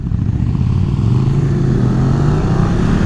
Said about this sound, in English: I hear the bikes in front of me.